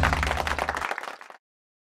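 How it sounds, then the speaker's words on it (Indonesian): Audience applause at a Jakarta investment-services TV event, a dense burst of clapping that thins out and stops abruptly after about a second and a half. "kita beri tepuk tangan sekali lagi buat Pak Nana"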